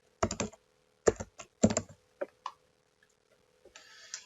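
Keys on a computer keyboard are typed in short bursts of quick clicks, clear and close, with pauses between groups and a faint steady hum underneath.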